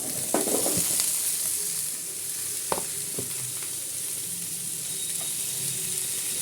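Pumpkin, drumsticks, pointed gourd, eggplant, potato and long beans fry in a pan with a constant close sizzle, broken by a few sharp clinks and scrapes of a stirring spoon early on.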